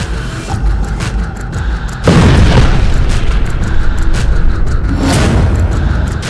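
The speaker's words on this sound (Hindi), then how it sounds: "तेल अवीव के बीचों बीच ईरान की मिसाइल गिरी है" An Iranian missile strikes Tel Aviv in an abrupt, very loud blast that jumps out of background noise and is followed by a sustained heavy roar and rumble.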